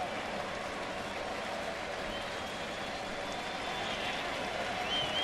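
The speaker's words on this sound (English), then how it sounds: "The crowd on both sides coming alive." A ballpark crowd at a Cubs–Cardinals game swells with steady cheering and applause during an at-bat, a broad distant roar with no distinct individual voices.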